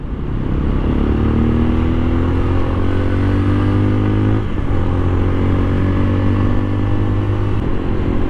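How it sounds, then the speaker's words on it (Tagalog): A CF Moto Papio 125 motorcycle being ridden and accelerating, its engine droning loudly and steadily with rising revs, a brief dip as it shifts, then climbing again. "Na-observe ko sa Papio na to, medyo mahina yung arangkada niya."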